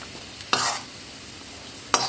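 Dried figs roast in a little ghee, a soft continuous sizzle under two sharp scraping stirs of a spoon against the pan, one early and one near the end, with no voices.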